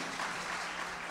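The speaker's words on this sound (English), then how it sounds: "Can you clap your hands together for Jesus?" A church crusade audience in Toronto applauds: a short stretch of steady, fairly faint, dense hand clapping from a large crowd, with no talk over it.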